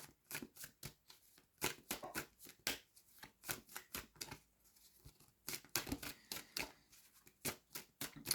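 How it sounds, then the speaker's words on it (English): Quick, crisp riffling of tarot cards shuffled repeatedly at close range, a steady rhythmic flutter of soft slaps with brief pauses, no talking. "Other times I can be sitting here for 5 or 10 minutes shuffling the cards"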